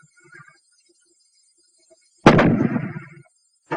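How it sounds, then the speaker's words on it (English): A fragmentation grenade goes off in a 1943 infantry weapons film, one sudden loud blast after near silence, with a rumbling tail that fades over about a second. "The fragmentation grenade."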